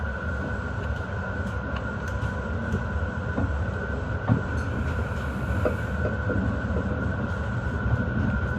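A passenger train departs Genoa Piazza Principe station, rolling along with a steady low rumble and hum, with faint clicks and rattles from the wheels and carriages.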